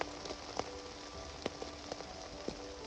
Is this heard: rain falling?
yes